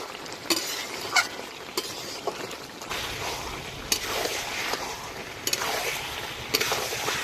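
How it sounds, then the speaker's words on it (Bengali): Home-raised chicken curry with potatoes being stir-fried in a pan: a steady sizzle runs throughout, broken by repeated scraping stirs at irregular intervals, close and clear with no talking. "এবার আলুগুলো দিয়ে দেব। আবারও ভালো করে একটু কষে নেব।"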